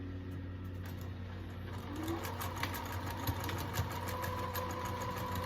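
A sewing machine stitches back and forth across elastic on a fabric bowl cover, running in a steady, close, mechanical whir with faint rhythmic ticking that picks up slightly partway through.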